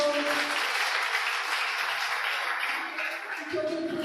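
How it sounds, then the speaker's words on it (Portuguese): A church congregation applauds in a dense, steady wash of clapping that continues throughout. "Você pode aplaudir ao Senhor."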